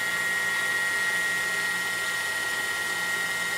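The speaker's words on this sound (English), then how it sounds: "I'm gonna back away, turn the wheel on, I'm gonna move in here, and I'm gonna move in until I just touch." A home-shop-built tool-sharpening grinding wheel runs at full speed with a steady, loud whirring hiss and a thin constant whine, no contact or pauses.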